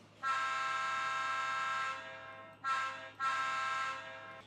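A Rapido SD10 model locomotive's sound-decoder horn blows one long blast, then two shorter ones, loud and close with a brassy, buzzing tone.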